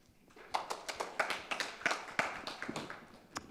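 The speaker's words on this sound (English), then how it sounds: "give her a big round of applause" Sparse, scattered clapping from a lecture audience greeting a research presenter, individual claps spaced out and fairly quiet, building briefly and then thinning.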